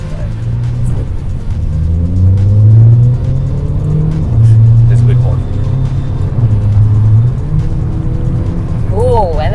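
A Volkswagen Polo GT under way with a muted exhaust and turbo, a steady low engine drone that swells and eases over several seconds as it accelerates, with faint voices in the cabin.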